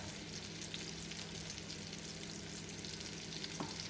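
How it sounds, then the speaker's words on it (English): Flour-coated beef pieces frying lightly in a pan for Guinness beef stew, a quiet, even sizzle with faint crackle and one small knock near the end. "we're just going to very quickly and lightly fry each side of it"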